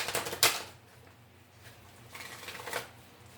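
Tarot cards are shuffled by hand in a few quick riffling bursts, soft papery flutters separated by quiet gaps, close and faint with no talking.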